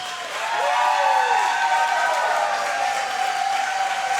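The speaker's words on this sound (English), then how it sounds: "a big round of applause, please, for both of the fighters in this cage" Crowd at an MMA cage-fighting event applauding both fighters, a dense steady wash of clapping and cheering that swells and then holds, with a loud ringing electronic tone sweeping over it.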